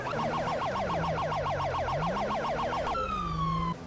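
A police car siren in GTA 5 wails in a rapid, steady yelp cycle, loud and close, then switches abruptly to a different, slower tone near the end.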